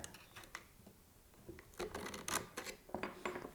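An Allen wrench works loose the main drive screw on the mount of a Shift Lock quiver, giving a series of dry scraping, clicking and rasping turns that grow louder and more frequent toward the end, close to the microphone with no talking.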